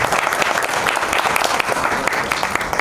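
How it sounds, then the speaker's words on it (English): A crowd at an HR convention award ceremony claps steadily, a dense, even wash of many hands in a large hall lasting a few seconds with no speech. "Please, please, please give them a big round of applause."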